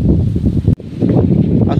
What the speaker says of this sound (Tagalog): Lakas ng hangin, ulan.